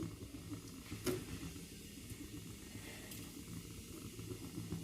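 Mustard seeds and cumin hit hot oil in a home kitchen pan and sizzle with a steady, close hiss and faint crackle throughout, with no voices over it.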